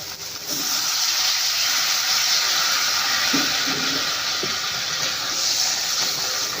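A loud, steady hiss bursts in abruptly and keeps going strong as water hits frying spices in hot oil, sizzling fiercely.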